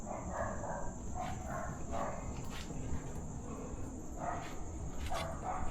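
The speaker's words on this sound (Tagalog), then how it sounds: "Ayun, ang dami nilang kahol." Several dogs bark at night at some distance, in repeated scattered bursts over a steady bed of cricket chirping and faint background noise.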